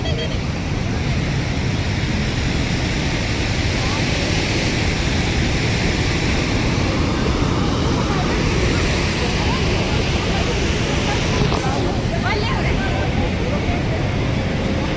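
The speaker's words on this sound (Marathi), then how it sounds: "नर्मदा नदीवरील हे धुवाधार धबधबे आपण बघत आहोत." Dhuandhar waterfall on the Narmada river at Bhedaghat gives off a steady, loud, broad roar of falling water that holds constant for the whole stretch with no clear breaks.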